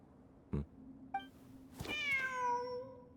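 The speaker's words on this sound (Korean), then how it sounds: "진짜로 고양이가 있잖아." A cat meows inside a video game set in a desert ruin expedition event. A couple of brief taps come first, then one clear, close, drawn-out meow that falls in pitch, heard alone over faint ambient game sound.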